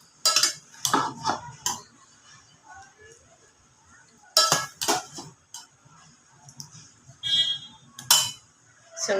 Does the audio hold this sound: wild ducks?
no